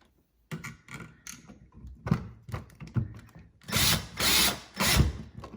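A screw is driven into a dimmer switch during installation of a Lutron Caseta wireless smart dimmer, giving close mechanical whirring bursts from a driver, the loudest near the end, with short ratcheting clicks between them.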